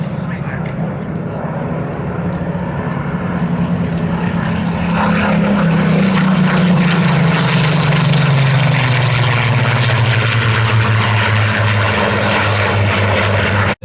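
Spitfire warbirds, including a low-back Spitfire, flying past in formation at the Sywell airshow: a loud, droning piston-propeller roar swells as they approach, then falls in pitch as they pass, with a voice talking over it.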